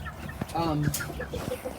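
Bantam Leghorn mix chickens and roosters cluck in a coop, with short nearby clucks and a drawn-out call amid scattered softer bird noises.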